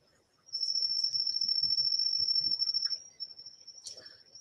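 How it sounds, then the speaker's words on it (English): Crickets chirp in a steady, high trill that runs almost continuously, fairly close and clear, with faint low knocks and rustles underneath and a brief pause before the chirping resumes. "they are crickets."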